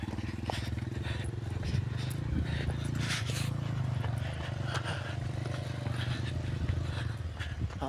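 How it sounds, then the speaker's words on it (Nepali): A motorcycle engine chugs and strains steadily at low revs as it is ridden up a rough slope, with rattling and clattering over the ground and a faint voice now and then. "अर्को बाइक उकाल्दै रहेछन्"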